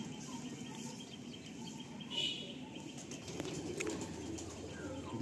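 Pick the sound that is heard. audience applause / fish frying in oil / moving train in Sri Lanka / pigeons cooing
pigeons cooing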